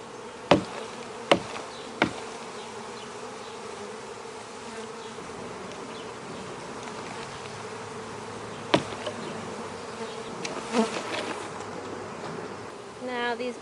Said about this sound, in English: Now these bees are getting a bit agitated because I'm disturbing them